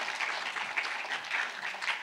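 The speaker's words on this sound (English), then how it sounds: "Let's give them a round of applause again." Applause from an audience at an information evening, a brief burst of many hands clapping together in a steady, moderately loud patter with no talking over it.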